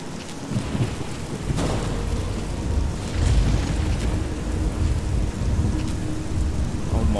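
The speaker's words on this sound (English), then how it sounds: "Yeah, that thunder is a huge improvement." A thunderstorm in a modded Fallout 3 game: steady heavy rain with low rolling thunder rumbling throughout, dense and continuous, with no talking.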